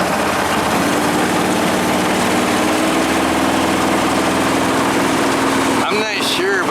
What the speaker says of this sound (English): it looked like that was a V-twin Briggs & Stratton engine